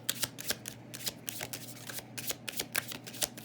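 Tarot cards being shuffled by hand during a reading, a close, steady run of crisp papery riffles and slaps repeating quickly over a few seconds with no talking.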